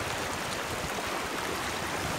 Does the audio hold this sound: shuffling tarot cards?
no